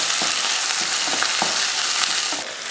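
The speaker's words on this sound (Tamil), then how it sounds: "கொஞ்சம் கருவேப்பிலை ஒரு பெரிய வெங்காயம் ரெண்டு வரமிளகாய் இந்த லைட்டாக வதக்கிடுவேன்" Curry leaves, a large onion and two dried red chillies sauté in hot oil with mustard seeds, giving a steady close sizzle broken by soft rhythmic scrapes and stirs of a spoon across the pan.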